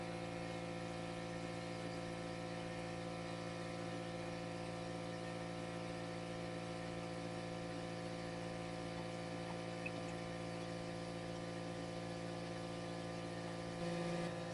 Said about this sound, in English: Hope y'all can hear me over the compressor.